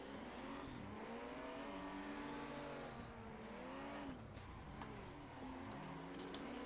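Drift cars in the sim racing game Assetto Corsa, engines revving up and down in rising and falling sweeps with tyre noise, a continuous fairly quiet run of tandem drifting.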